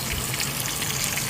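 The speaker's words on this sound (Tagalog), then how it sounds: "binaliktad na natin ang ating pritong isda" Fried fish that has just been flipped sizzles in a pan while a vegetable soup boils in a kitchen, a loud continuous hiss with no talking.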